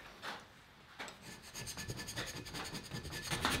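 Hand scraping on a cast iron vise body casting: a close series of short, dry rasping strokes that quicken and grow louder toward the end, with no talk.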